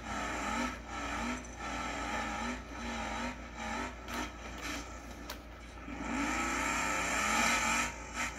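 Car in the BeamNG driving game rolling down a steep hill, with continuous engine drone, rumbling and scraping or rubbing noises throughout, fairly loud and steady with no voice.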